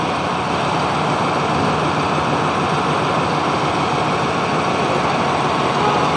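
A New Holland 5620 CRDI tractor engine runs steadily nearby, a loud, continuous broadband drone with no change in pace and no talk over it.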